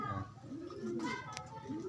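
Pigeons coo in soft, low, rolling calls, repeated close by, with a person talking quietly alongside and faint rustling in the background.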